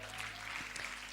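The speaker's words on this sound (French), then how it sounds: "je vous demande encore un maximum d'applaudissements pour ces femmes" Applause from a conference audience for the women on stage, a brief, faint wash of clapping.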